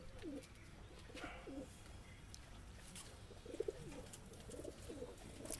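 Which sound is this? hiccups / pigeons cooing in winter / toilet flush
pigeons cooing in winter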